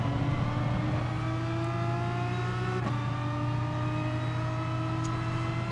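A race car engine on the Suzuka circuit in the Gran Turismo Sport video game drones steadily at high revs as it pulls out of the hairpin, with other cars audible nearby and no talking.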